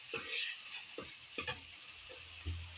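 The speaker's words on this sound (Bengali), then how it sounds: "পেঁয়াজ বাটা দিয়ে দিচ্ছি।" Onion paste goes into a hot pan and fries with a soft, steady sizzle, broken by several scraping strokes of a spoon stirring it, close and fairly quiet.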